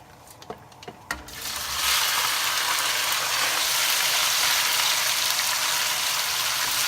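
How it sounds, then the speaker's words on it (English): Steady, loud sizzling of chicken strips in their second frying in hot oil, starting after a few short clicks and clatters and continuing unbroken. "So I'm going to fry it again."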